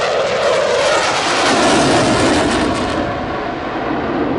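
A display jet at an air show flies a high-speed barrel roll. It makes a loud, close, tearing roar that swells and then eases slightly as it passes.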